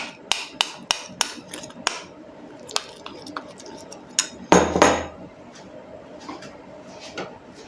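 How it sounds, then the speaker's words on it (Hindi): A spoon taps and scrapes against a bowl while a yogurt face pack with besan is stirred, giving sharp clinks at an uneven pace, then a brief louder clatter, with quiet talk in the background. "इसको अच्छे से हमने मिक्स कर लेना है।"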